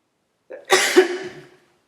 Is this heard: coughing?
yes